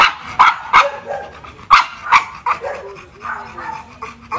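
A dog barks repeatedly in short, sharp yaps, several close together and fairly loud, with a few softer whimpering yips between them and no talk.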